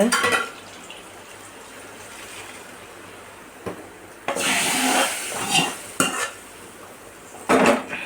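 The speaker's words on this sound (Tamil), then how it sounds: "தாளிச்சதை ஊற்றிடலாங்க" Metal clatter of pots and utensils with bursts of liquid splashing and sizzling as tempering is poured into a fish curry, close by, in several short bursts between quieter stretches.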